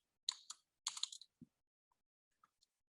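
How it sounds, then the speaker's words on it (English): Keys on a computer keyboard pressed during 3ds Max modelling work, a few quick clicks in two short bursts, then isolated faint taps near and alone. "If you don't want grid, you can switch off G on the keyboard."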